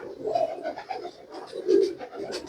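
Soft, low cooing from Kasur breeding pigeons of the Karma, Ghungroo and Malanga bloodlines, a few rounded calls rising and falling amid a busy loft murmur of several birds.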